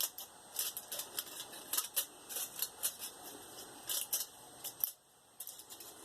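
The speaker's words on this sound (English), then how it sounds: "you're going to cut these notches into the foil" Scissors snip a series of notches into foil, a quick irregular run of crisp metallic cuts and crinkles, close and alone, with a brief pause near the end.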